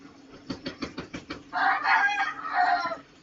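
A rooster crows and chickens cluck close by, a run of rhythmic clucks followed by a loud, drawn-out crow that repeats, with no talking over it.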